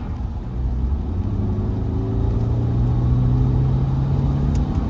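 A BMW F32 420i held in gear in sport mode drones steadily from inside the cabin while driving, with a low, rumbling engine note that climbs slowly and lingers at high revs, and no talk over it.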